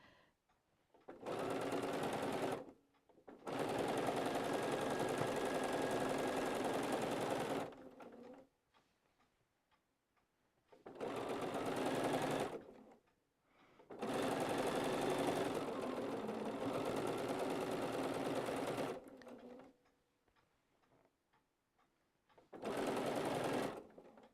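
A sewing machine stitching fabric in a sewing room, running in several sustained close bursts of steady motor whir separated by short pauses.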